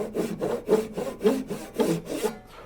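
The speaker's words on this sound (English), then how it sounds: "a back saw typically is a little finer toothed, and the backing on it prevents your saw from wobbling in the cut" Fine-toothed back saw cutting a half lap joint in wood, five or so distinct rasping strokes in a steady back-and-forth rhythm, close and clear, with no talking.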